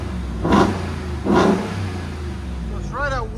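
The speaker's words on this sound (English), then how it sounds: "2022 Ram TRX. This is what it sounds like before. It's got a nice rumble already" Two sharp throttle blips from a 2022 Ram TRX with stock exhaust swell over a deep, close idle rumble, with a brief voice-like sound near the end.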